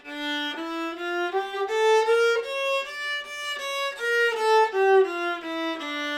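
A viola plays a slow harmonic minor scale, rising then falling, each note sustained and smoothly connected, solo and close.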